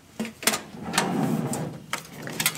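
A drawer of a filing cabinet used to store sewing patterns slides and knocks in a few short bursts, close and fairly quiet.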